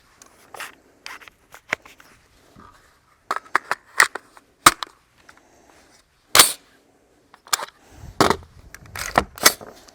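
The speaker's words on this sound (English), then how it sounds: "We'll lock the bolt back." AR-15 rifle having its bolt locked back and a round loaded, a series of sharp metallic clicks and clacks with pauses between, close and fairly loud.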